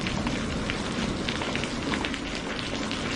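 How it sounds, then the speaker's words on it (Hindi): Heavy rain pours down steadily and loudly, a dense continuous wash of drops drumming on surfaces with no voices over it, setting a scene of flooding water below during a storm in a Hindi village story. "बारिश अब थमने का नाम नहीं ले रही, नीचे पानी ही पानी है।"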